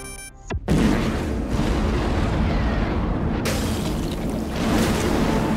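A massive nuclear bomb detonates at the kaiju breach in Pacific Rim, a sudden deep roaring blast that swells into a sustained, loud rumbling wash of debris and rushing turbulence continuing for several seconds.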